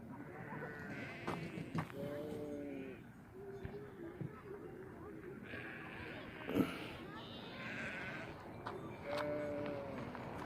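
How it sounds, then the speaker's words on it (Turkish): Several sheep bleat in a pen, their wavering calls coming and going over a busy background of people talking and shuffling. "Koyunlar"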